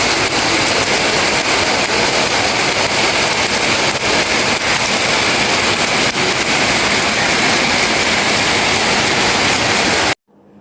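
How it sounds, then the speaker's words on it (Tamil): Heavy rain pours down in a steady, loud, dense wash of noise that continues without a break for about ten seconds, then cuts off abruptly near the end. "மதியானத்துக்கு மேலே மாஷாலன்னு சூப்பர் மழை"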